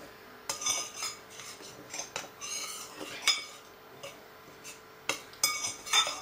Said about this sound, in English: shredded suet and sugar in a large mixing bowl and mix that up very, very well. Just use a normal table knife.